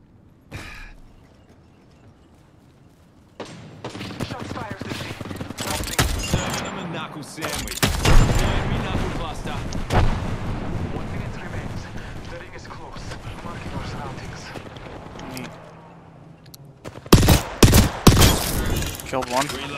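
Video game gunfire comes in scattered bursts and sharp shots, with a loud cluster near the end, mostly under steady talking from a player.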